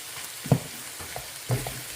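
Onions frying in a pan with a steady soft sizzle, broken by a couple of louder stirring clanks.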